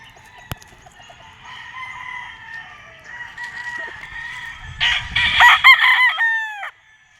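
Bull stag gamecocks, including banderado and kelso types, crow at a gamefarm; several overlapping cock-a-doodle-doo calls rise and fall, with a louder burst of crowing near the end over faint background noise.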